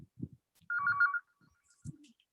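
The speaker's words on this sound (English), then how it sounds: "There the phone rings." A phone rings once with a short electronic trill, clear and fairly close, between a few brief bursts of voices and room noise.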